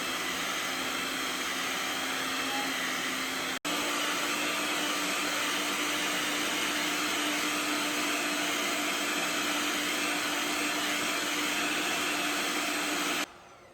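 An electric mixer whips cake frosting at high speed with a loud, steady whirring drone that briefly cuts out, resumes slightly higher, and stops abruptly at the end.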